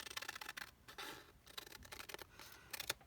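Scissors or a trimmer cutting down a paper journaling card, quiet close snips and rustling paper in short irregular bursts, no voices.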